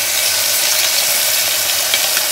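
Green chilies and a spice mix frying in oil, a dense steady hiss of sizzling that stays constant and close with faint stirring ticks.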